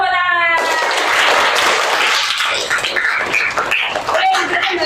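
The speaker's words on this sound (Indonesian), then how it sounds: "Tepuk tangan." A school class applauds in its classroom after a literacy chant, a burst of mixed clapping from pupils starting after a brief electronic tone, with voices and chatter mixed in as the applause continues.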